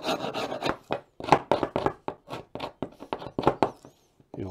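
A tool scraping old wax off the bars of beehive frames, a series of quick rasping strokes in an uneven rhythm, close and distinct with short pauses between scrapes.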